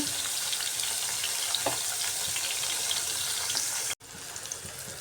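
Steady hot-oil sizzling of ash gourd pieces frying in a pan over full gas heat, continuous and close, cutting off abruptly near the end before softer sizzling resumes.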